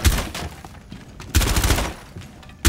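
Pistol gunfire in Rainbow Six Siege: several loud, close bursts of rapid shots in quick clusters, separated by short pauses.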